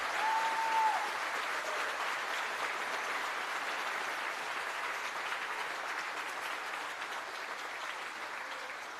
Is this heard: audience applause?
yes